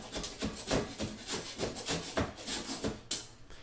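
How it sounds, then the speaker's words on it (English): Surform rasp filing wood to fit a piece of a dance pad replica, a series of rhythmic scraping strokes at a steady back-and-forth pace, close and fairly loud. "I'd work at it with the surform for a little bit to just take off that fraction of an inch that it needs to keep going down"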